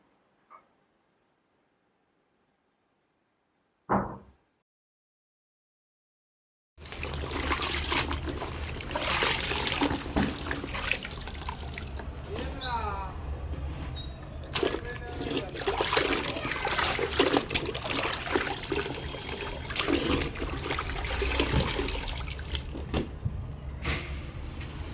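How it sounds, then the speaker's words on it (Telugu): Clothes are washed by hand in water, with close, continuous sloshing, trickling and splashing that starts after a few seconds of near silence and carries on steadily. "ఇక్కడ ఈ క్లోత్స్ని వాష్ చేద్దామని ఇక్కడికి వచ్చేసాను"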